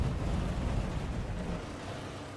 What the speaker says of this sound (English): It sounds like a damn diesel car.